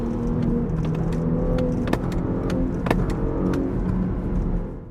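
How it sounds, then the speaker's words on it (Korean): A Porsche Panamera 4 in Sport Plus mode pulls away under throttle, its engine a steady, smooth mid-level drone with a few sharp clicks on top, fading slightly at the end. "이렇게 가속 페달을 밟았을 때 느껴지는 사운드와 차가 움직이는 이 느낌 자체가 굉장히 고급스러워요"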